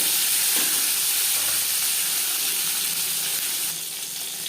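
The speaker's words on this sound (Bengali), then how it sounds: "তিন চামচ সর্ষার তেল গরম করে নিয়েছি এবার দিয়ে দেব মাছ জ্যান্ত মাছ আমি একটু হালকা করেই ভেজে নেব" Live shing fish frying lightly in hot mustard oil, giving a steady, close sizzle with a bright hiss that eases slightly toward the end, no talking.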